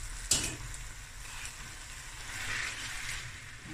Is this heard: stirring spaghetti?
yes